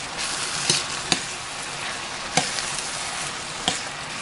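Onions frying in oil in a pan over medium heat, a steady dense sizzle punctuated by a few sharp clicks of a utensil against the pan.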